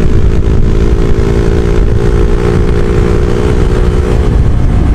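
A Jupiter Z1 motorcycle engine fitted with a Tsukigi aftermarket exhaust, not yet fully warmed up and running on diesel oil, revs steadily and loudly up close with a throaty, continuous drone and no speech.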